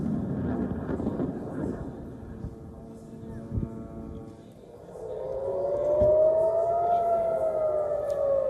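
An air raid siren wails across central Israel during a rocket attack, its rising, steady tone carrying from a distance over wind and background rumble.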